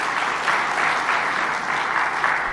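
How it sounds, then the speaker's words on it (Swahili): Audience applause at a government dividend ceremony, a steady, dense wash of many hands clapping close and even throughout. "makofi tena kwa TPA"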